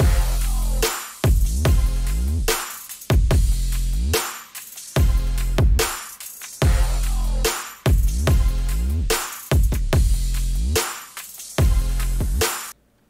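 Chopped hi-hat sample looped in FL Studio: bright metallic bursts in a steady rhythm of roughly ten hits, each cut off abruptly with short gaps between, loud and alone.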